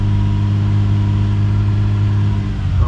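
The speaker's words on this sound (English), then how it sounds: "Downshift it to second. And downshift it to first." A Toyota Camry engine with automatic transmission runs steadily while the gearbox is downshifted into first, a loud, even mechanical hum with a slight shift in tone near the end, and no talk.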